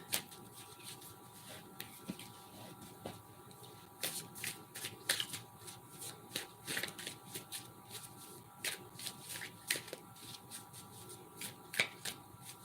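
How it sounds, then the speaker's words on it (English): Decks of cards are shuffled repeatedly in quiet surroundings, with crisp riffling bursts and soft clicks of cards being squared, fairly close and alone. "Just shuffling my decks for tomorrow."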